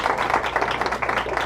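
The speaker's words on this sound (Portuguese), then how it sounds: "Uma salva de palmas para ele." A small audience at a personal talk gives brief, light clapping, a short, dense patter of hands lasting under two seconds.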